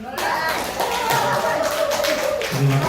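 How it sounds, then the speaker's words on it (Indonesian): An audience claps together on request, a steady patter of hands with a few taps and a voice or two under it, fairly close and lively throughout. "Boleh saya minta tepuk Bapak Ibu ya?"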